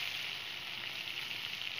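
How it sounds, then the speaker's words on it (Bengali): Thinly sliced onions fry in a pan with an even, continuous hiss that stays steady and moderately quiet throughout, with no talking over it. "এগুলোকে একটু ভেজে নেব।"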